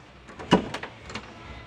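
Door of a 1968 Chevrolet Camaro hardtop with a 327 engine opening, a near metallic clunk of the latch followed by a few lighter knocks and creaks, in a quiet space with no talking.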